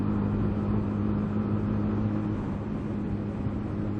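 A motorcycle engine drones steadily while riding along a road, a constant low rumbling hum with strong tonal bands, close and loud throughout with wind noise and no breaks.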